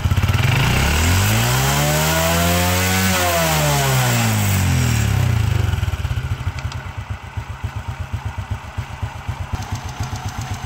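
Honda RSX 100 motorcycle engine revving up and falling back, then settling into a loud, rapid, even idle putter close by, with no speech.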